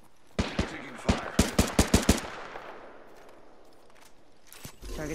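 Automatic gunfire from the video game Apex Legends: a sharp burst of about eight rapid shots, loud and close, then a decaying echo tail and a faint final report.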